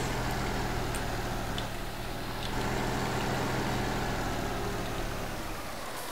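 Virtual tractor engine in a Farming Simulator 19 mod idling after starting, a steady low rumbling drone with a faint harmonic hum, even and continuous throughout.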